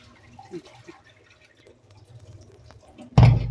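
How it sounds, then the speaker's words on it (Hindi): Urad and chana dal are washed by hand in water, with faint drips and small splashes building to a sudden loud, close slosh of water at the end. "इसमें पानी डाल देना, इस तरीके से मसल के धो लेना।"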